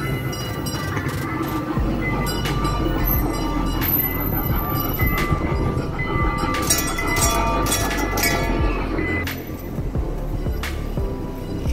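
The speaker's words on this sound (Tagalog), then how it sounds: "May train pa dito, oh." A train rolls past in Waterford city, Ireland, a loud steady rumble of wheels and railcars with screeching metallic squeals over the full length, close by and continuous.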